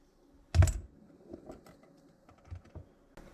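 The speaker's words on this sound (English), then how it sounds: "So I'm going to cut the sticker now." Scissors cutting through an adhesive sticker for a stick-on GoPro chin mount on an LS2 Stream II helmet, heard as one loud close snip followed by several fainter clicks and snips.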